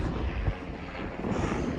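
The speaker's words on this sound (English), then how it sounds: "Another helicopter." Helicopter flying near Everest Base Camp in the Himalayan mountains, a steady engine and rotor drone with wind buffeting the microphone, continuous for under two seconds.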